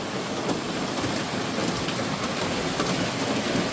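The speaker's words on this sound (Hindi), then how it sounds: "ये एकदम तेज़ बारिश।" Heavy rain pouring steadily at night, a dense, loud and unbroken hiss of falling water with no voices over it.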